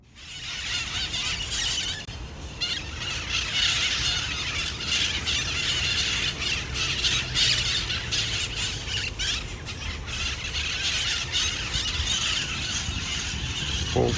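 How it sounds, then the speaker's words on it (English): A whole treeful of parrots squawks and shrieks at once, a dense, continuous, fairly loud chorus of overlapping calls from nearby. "Full tree of parrots."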